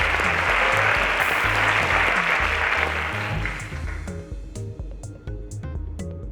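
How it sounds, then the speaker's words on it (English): Audience applause for a teacher placing second at the Cowbellpedia quiz show swells loud and full for about four seconds. It then thins out and fades under a backing music track. "a round of applause to our teacher"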